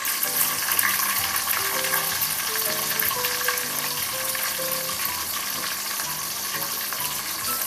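Green chilies and onions sauté in a pan, giving a steady close sizzle and crackle that runs the whole time, with faint tonal sounds in the background.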